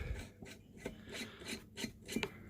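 A barrel nut is turned by hand onto the threads of a Hammerli Tac R1 air rifle, giving faint, close scraping and rasping metal-on-metal rubs in short irregular strokes.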